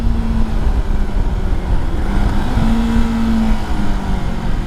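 A motorcycle accelerates through a tight, wet, downhill curve, its engine holding a steady drone at constant throttle. Road and wind noise run underneath, and the sound stays loud and continuous.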